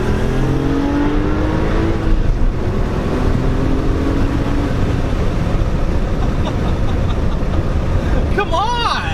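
A 2008 Porsche 911 Carrera S engine runs loud and steady with rising and falling revs throughout, close by, with a brief tonal chirp near the end and voices mixed in.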